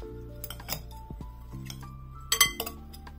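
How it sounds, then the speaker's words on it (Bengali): Lemon juice being stirred into a quinoa chicken salad, with a few sharp clinks of a utensil against a glass or ceramic bowl and a louder cluster of clattering near the end, no talking. "আমি 1 চা চামচ পরিমাণ লেবুর রস অ্যাড করে দিচ্ছি।"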